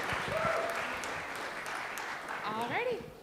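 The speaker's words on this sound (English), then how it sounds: "give a round of applause here" Applause from an audience at an international student festival, steady and moderately loud, with whoops and shouted voices rising over the clapping toward the end.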